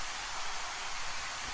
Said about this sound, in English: It's literally a white noise plus crowd effects.